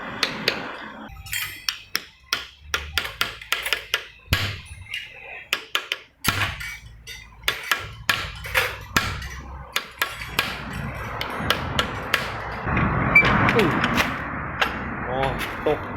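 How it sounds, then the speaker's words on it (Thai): Sharp metallic hammer strikes from a 10-pound hammer driving out a bicycle pin, in an uneven series, close by, with someone talking between and over the blows. "เริ่มต้นก็ตอกสลักออกก่อนนะครับ"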